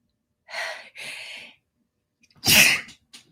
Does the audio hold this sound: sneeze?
yes